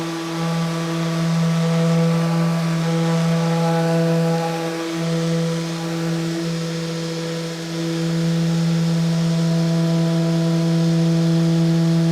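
A steady, loud electric sander working epoxy resin with 400-grit paper on a picnic table countertop hums with a constant buzzing drone, running unbroken for the whole stretch with no talking.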